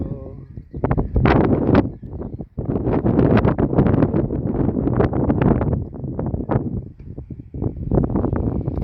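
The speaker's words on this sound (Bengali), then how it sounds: "শুধু হাওয়ার হাওয়া, শুধু হাওয়ার হাওয়া, প্রচুর হাওয়া।" A strong wind buffets the microphone in loud, irregular gusts, producing a rough, roaring rumble that rises and falls, with brief lulls between the blasts.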